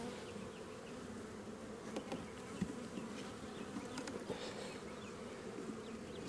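Honey bees buzz continuously in a dense, steady hum around a hive, with occasional individual bees droning a little closer.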